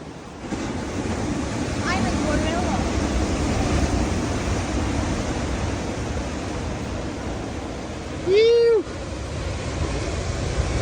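Big, heavy ocean waves pound the shore at T-Rex Beach on Nusa Penida, Bali, as a steady, loud surf roar with constant wind rumble, and a brief voice-like cry sounds in the middle.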